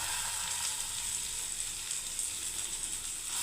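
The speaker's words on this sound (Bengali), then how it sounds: "খুব সুন্দর করে একটু ভেজে নিচ্ছি আবার" Poppy seeds frying in a pan, a continuous close sizzle with light scraping and stirring ticks throughout, no voice.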